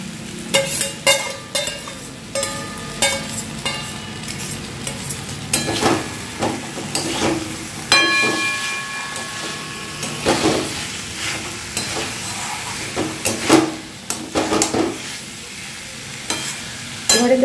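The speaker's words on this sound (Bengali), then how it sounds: "আলু ভাজাগুলো আবার দিচ্ছি এতে।" Fried potatoes are tipped back into a fish head curry and stirred, bringing loud sizzling and frying hiss broken by repeated clacks and scrapes of a spoon against the pan, with no talk over it.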